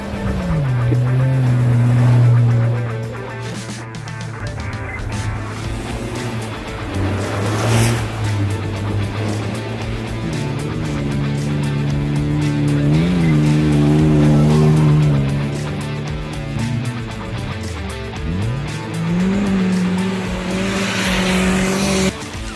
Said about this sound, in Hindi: हम सब इंतज़ार कर रहे हैं कि इनकी गाड़ी कब गुजरेगी और किस अंदाज से ये यहाँ से गुजारेंगे।